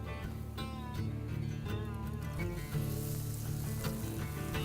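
Pretzel-crusted walleye fries in hot olive oil in a pan, a steady close sizzle with faint crackle running under a musical backdrop.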